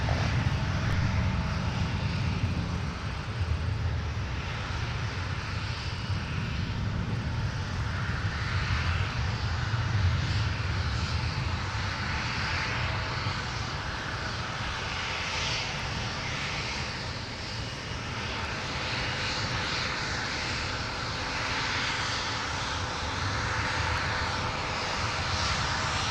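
A jet airliner taxiing for departure at Minneapolis–Saint Paul airport makes a continuous engine whine and rumble. It holds at a steady level throughout and sounds moderately distant, with no voices over it.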